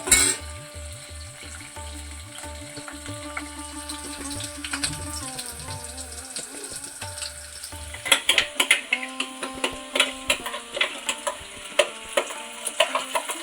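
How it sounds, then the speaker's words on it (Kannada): Ground masala frying in a pan for pajji sambar, hotel style, a steady sizzle that turns into bright, uneven crackling and spitting in the second half, with no talk over it. "ಸ್ವಲ್ಪ ಫ್ರೈ ಆಗಲಿ."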